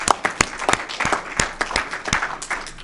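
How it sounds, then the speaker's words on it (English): An audience at a city council meeting claps for a few seconds in distinct, fairly sparse hand claps that sound like a modest crowd in a meeting room. "Let's give him a big round of applause for his work down"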